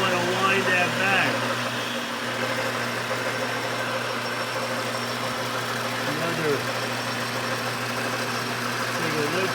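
A lathe turning a wooden screwdriver handle gives a steady, close mechanical hum with a low drone that runs evenly through the whole stretch.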